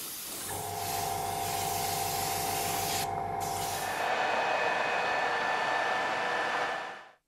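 Vallejo matte varnish sprayed over acrylic paint from an airbrush or spray can, a steady close hiss lasting several seconds, with a brief change in tone partway through before it cuts off.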